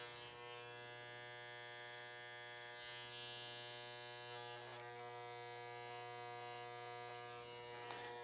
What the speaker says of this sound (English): Now we're going to close the clipper halfway and do it again.